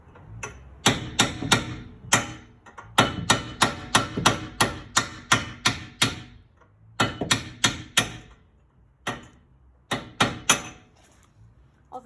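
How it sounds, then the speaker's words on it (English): Repeated hammer blows on a seized bolt of an Audi 100's rear brakes, sharp metallic strikes in several rapid bursts with brief pauses between, close and loud with no talk. "So we'll do some more hammering."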